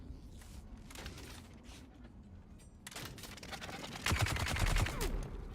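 Enemy chain gunner machine gun fire in Dune: Awakening, distant rattling bursts that grow into a loud, rapid volley of close shots near the end, with no talk.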